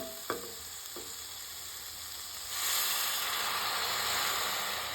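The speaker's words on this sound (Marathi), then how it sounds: "मी 1 वाटी गरम पाणी टाकलंय." Hot water goes into sizzling mushroom masala in a pan. A couple of soft clicks come first, then a loud, steady frying hiss swells and keeps roaring close up.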